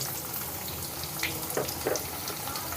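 Thinly sliced onion pieces frying in a pan with curry leaves, a steady broadband sizzle with a few brief clinks partway through, close and fairly quiet.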